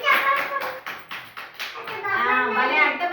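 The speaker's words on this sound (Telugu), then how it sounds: "క్లాస్ కొట్టండి ఒకసారి" Children in a classroom give a round of clapping, a few rhythmic bursts of claps close by, followed by a voice speaking over the end.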